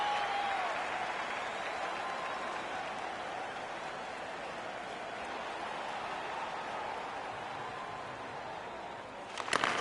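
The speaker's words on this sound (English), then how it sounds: "but the home crowd is pumped up." A home arena crowd cheers in a PS4 hockey video game, a steady, dense roar of applause and noise that holds for the whole stretch before a brief clatter at the end.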